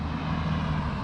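A Farmac F070W chainsaw, a Stihl MS660 clone with a 42-inch bar, runs rich during break-in with a steady, droning engine note that holds even and unbroken at moderate distance.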